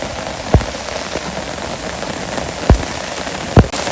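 Heavy rain falls over a Bangladeshi village, a steady loud hiss of drops on surfaces with a few sharp louder splashes or knocks cutting through.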